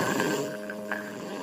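A cartoon bear snores loudly in a single drawn-out, rumbling breath that fades at the end.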